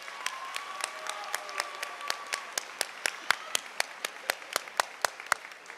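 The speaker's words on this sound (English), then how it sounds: "please join me one more time for expressing our deepest gratitude with a round of applause" Round of applause for staff at a Walnut Ridge High School graduation ceremony, a steady wash of crowd clapping with a few sharp, close individual claps standing out in a regular rhythm, and a faint voice briefly underneath.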